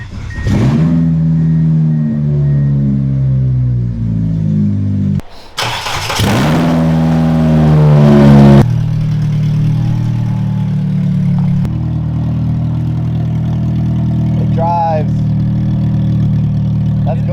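A second-generation Mitsubishi Eclipse on its third engine, with smoke coming from the header, revs hard as it drives off, rising engine pitch through gear changes before settling to a steady drone, close and loud.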